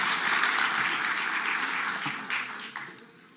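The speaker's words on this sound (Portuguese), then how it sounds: "Uma salva de palmas agora de verdade que ele vai apresentar." Audience applause for a conference speaker, a dense wash of clapping that holds steady and then gradually thins and fades out near the end.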